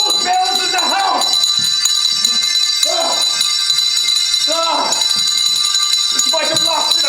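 Several bells ring steadily together as a stage sound effect in a theatre production of A Christmas Carol, a sustained bright clanging that runs throughout while a voice speaks over it.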